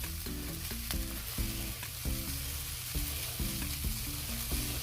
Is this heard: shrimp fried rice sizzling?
yes